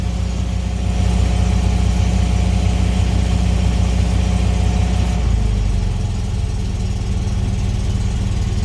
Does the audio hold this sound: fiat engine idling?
yes